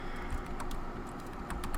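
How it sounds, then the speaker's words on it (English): Computer keyboard typing done one-handed, a brief run of quick, close key clicks in an uneven rhythm over a steady low background hum, with no talk. "I'm typing with one hand here"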